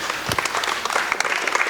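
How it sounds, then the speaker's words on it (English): An audience at a book launch breaks into brief applause, a burst of scattered claps from a small crowd lasting under two seconds. "I think a round of applause for you"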